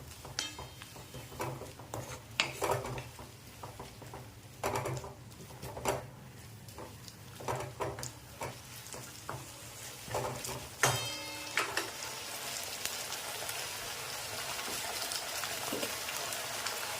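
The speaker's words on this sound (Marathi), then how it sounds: "हे सगळं परतून घ्यायचं आपल्याला मिक्स करून घ्यायचं आहे आपल्याला हे सॉस" Veg Hakka noodles being stir-fried with sauce and vinegar in a pan give a steady hiss and sizzle with scattered clinks and scrapes of stirring, close and fairly quiet throughout.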